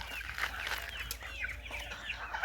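Large, massive roosters and chickens cluck and call in a farmyard, several overlapping near bird calls over a steady background.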